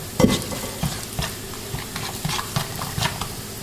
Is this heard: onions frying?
yes